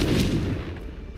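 The Confringo fire spell in Hogwarts Legacy goes off as a single loud, booming blast with a deep rumble that fades within about a second.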